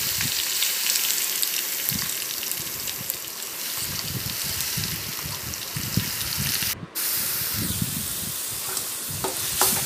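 Grated coconut frying with curry leaves in a pan, a steady close sizzle with frequent scraping stirs of a spoon across the pan, one brief dropout midway.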